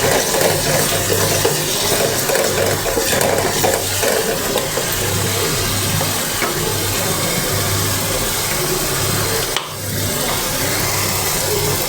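Spices (ginger, garlic, turmeric and chili powder over softened onion) fry in a pan with a steady, dense sizzle and stirring that runs unbroken and fairly loud, with no talking.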